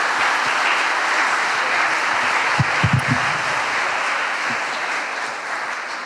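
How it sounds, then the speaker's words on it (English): Steady applause from a conference audience after a keynote at an open-source software conference, a dense even wash of clapping filling the room for several seconds, with a few louder nearby claps and a faint murmur underneath. "please round of applause."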